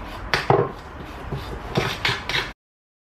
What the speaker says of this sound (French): je viens mélanger tout ça ensemble